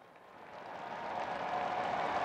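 Crowd applause on a large square as Pope Francis arrives for the Angelus prayer, a broad steady wash of clapping from a distant crowd that swells slightly over the moment.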